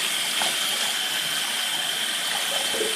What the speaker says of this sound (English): So run your hot water.